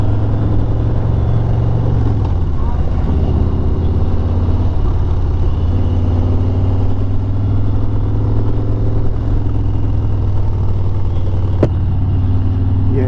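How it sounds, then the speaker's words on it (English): Steady loud engine rumble from inside a vehicle climbing Iron Mountain Road, a constant deep drone with a slight pitch shift as it works uphill and one brief click partway through, no voices. "Why are you taking a bus up here?"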